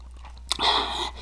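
Close-up mukbang bite into KFC mac and cheese, a sharp crunch-like onset followed by about a second of moist, smacking chewing right at the mic, alone without talk.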